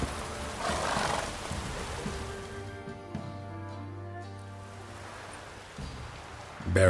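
Roach, Geralt's horse in The Witcher 3: Wild Hunt, gives a clear neigh near the start, followed by sustained droning tones and ambient game sound.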